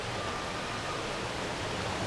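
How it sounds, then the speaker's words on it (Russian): Durian waterfall in Langkawi, Malaysia, heard as a steady, even rush of falling water that fills the short span with dense hiss and no pauses. "Называется водопад Дуриан."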